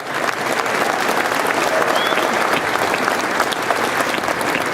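Sustained applause from a press conference audience for a football coach's introduction, dense and steady clapping throughout, close and fairly loud, with faint cheering mixed in.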